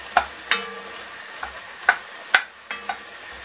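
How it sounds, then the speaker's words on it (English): Flour cooking out in a pan for beef stroganoff: soft sizzling under a handful of sharp utensil clacks and scrapes against the pan, spaced irregularly, close and with no talking. "So you're going to cook out the flour for at least 2 minutes."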